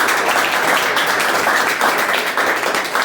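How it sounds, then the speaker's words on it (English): Lively applause from a Toastmasters audience for members who served in club leadership, close and dense, with clapping that rises and falls slightly over a few seconds. "Now let's give a round of applause."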